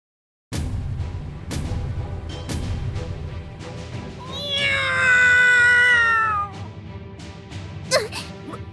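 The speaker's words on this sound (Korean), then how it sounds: "뭐야? 이 고양이 소리는..." A cat meows in the video game Trickcal Revive: one long, wavering, clear meow rises over steady game music and sound effects, followed by a short sharp sound near the end.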